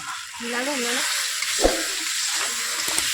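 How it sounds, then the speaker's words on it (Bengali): Meat being fried with masala in a pan, a continuous close sizzle, with a voice briefly audible over it and a louder clatter or stir about halfway through. "আমি এখন মাংস রান্না করছি মানে এখন মশলাটা করছি"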